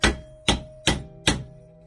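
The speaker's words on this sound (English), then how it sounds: "and hammer that down the wedge between it." Four sharp, evenly spaced hammer blows drive a heavy chisel against a steering bearing on a Suzuki Bandit 1200 motorcycle, each a loud ringing metallic strike that decays quickly.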